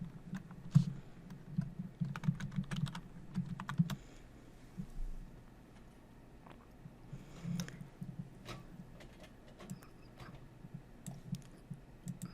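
Fingers type on a computer keyboard in uneven bursts of close key clicks, some louder taps standing out, with quiet pauses between runs and no talking.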